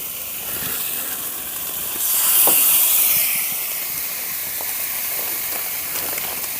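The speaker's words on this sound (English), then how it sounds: "Hear that sizzle, right?" Boneless skinless chicken thighs, marinated, sizzle on a gas grill with a steady broad hiss that swells louder for a second or two and then settles, close by with no talk.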